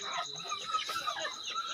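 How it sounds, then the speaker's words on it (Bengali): Native desi chickens, kept with ducks indoors in a house and fed late at night, cluck and chatter continuously as a busy flock, with overlapping calls at a steady, fairly loud level throughout and no talking. "রাত গভীরে চলে আসলাম হাঁস মুরগিকে খেতে দেওয়ার জন্য"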